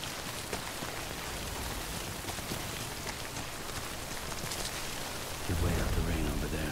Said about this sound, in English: Get way out the rain over there.